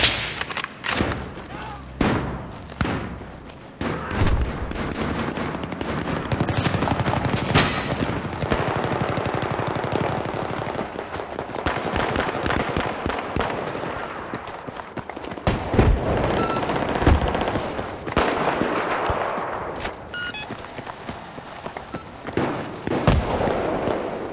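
Rapid gunfire and explosive booms crackle from a Battlefield-style team deathmatch on Kharg Island, bursts and thuds dense and continuous for most of the stretch, loud and busy with sharp transients throughout.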